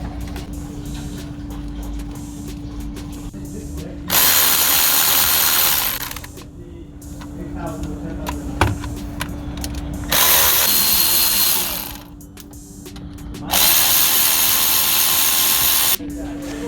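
A power ratchet spins off 12mm bolts during a clutch replacement on a 2017 Toyota Yaris, with three loud, close whirring bursts of a few seconds each, separated by quieter workshop sounds and someone talking.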